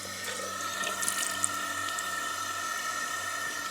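Cold water runs steadily from a tap into a sink during face washing, a continuous hiss with no break and no voices.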